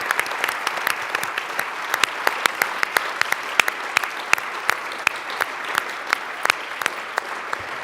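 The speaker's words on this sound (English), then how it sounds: "A big round of applause for Weyni, Sasha, and Joana." An audience at a Canadian Club arts leadership event applauds panelists Weyni, Sasha and Joana, sustained even clapping from a large room, moderately loud and continuous, with sharp individual claps standing out.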